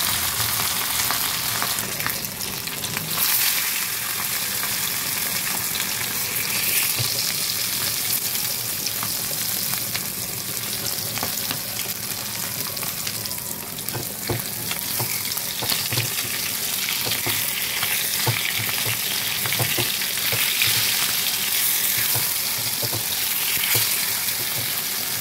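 Salted, turmeric-rubbed fish pieces frying in a pan, producing a loud, continuous sizzle with steady crackling that lasts throughout, close by and with no talking.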